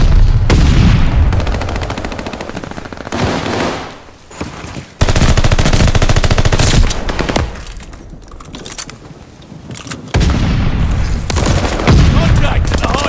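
Call of Duty: Vanguard multiplayer hardpoint match with loud bursts of automatic machine gun fire, several sustained volleys broken by brief pauses and an explosive boom, while game announcer voices call out in between.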